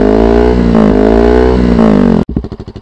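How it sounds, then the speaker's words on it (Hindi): A KTM Duke 200 motorcycle with an Akrapovic full-system exhaust revs hard and close, a loud sustained rasping roar that cuts off sharply into a rapid popping, crackling burble as the revs fall. "एक बार रैप करके सुना देता हूँ ये एग्जॉस्ट की"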